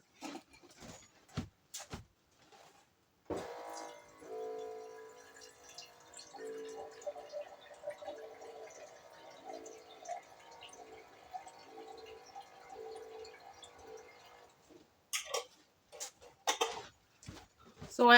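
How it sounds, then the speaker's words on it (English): Water pours steadily from a tap into a jar to rinse it out for a smoked cheddar lasagna soup, a running, bubbling fill lasting around ten seconds, framed by clatter and brief handling noises before and after. "Now I'll add a little bit of water to it just to wash out the jar"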